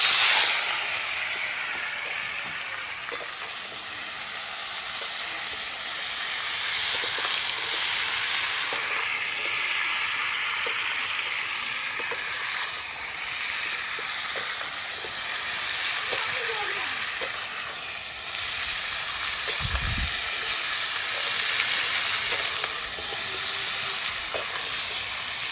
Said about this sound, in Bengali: ভালো করে আমগুলো তেলের উপরে কষিয়ে নিতে হবে